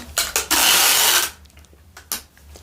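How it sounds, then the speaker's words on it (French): A loud, close screech of packing tape being pulled off a roll to seal a cardboard box, one long rip with shorter tugs before and after. "Je vais mettre encore du scotch."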